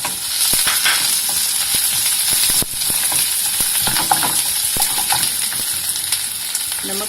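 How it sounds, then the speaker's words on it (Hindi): Onion sizzles and fries steadily in hot oil with golden garlic, a dense continuous crackle with occasional stirring clatters, close and loud throughout, no voices. "जब लहसुन हमारा गोल्डन हो जाए तो हम इसमें प्याज डाल देंगे।"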